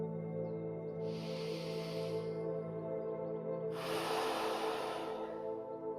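Two long, deep breaths during a slow yoga stretch at a wall, each a soft airy rush lasting a second or two, with a pause between them. They sit over a steady low background hum.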